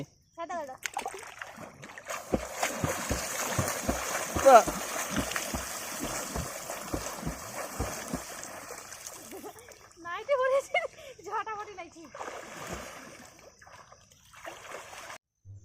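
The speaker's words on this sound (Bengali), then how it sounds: "চলো এবার সাঁতার কাটো দেখি" A woman swims in a village pond, making light repeated splashes and water strokes that are mostly buried under nearly continuous conversation, with a few louder sloshes midway.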